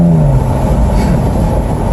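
A Jaguar F-Type's engine drones and revs up close, a loud sustained exhaust roar lasting under two seconds, with no distinct pops standing out.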